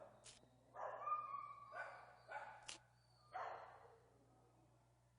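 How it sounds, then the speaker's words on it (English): Cartoon pit bull puppies let out a string of small, yappy barks, four or five light yips spaced across a quiet background, with a few sharp clicks. "Well, Abby, these little pit bull puppies have had a rough life."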